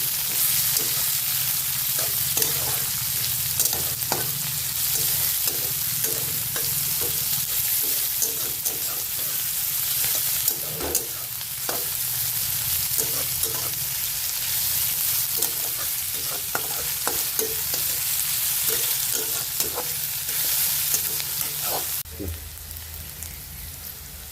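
Sliced onion fries in oil with a constant close sizzle, like rain, and soft stirring taps sound through it until the hiss drops away near the end.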